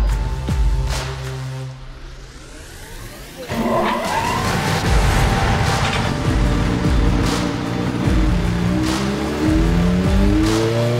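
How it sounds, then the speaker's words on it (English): A Honda CBR 600RR sport bike revs hard on test runs, rising and falling through several loud, high-pitched sweeps before settling into steady, repeated throttle blips nearby. "We're going to do some runs initially to see how the bike performs."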